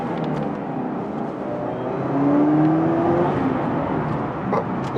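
A 2019 Chevrolet Camaro engine with a Pedal Commander fitted hums steadily inside the cabin, rising briefly in a rev and then easing off slowly as the throttle hangs, with no talking.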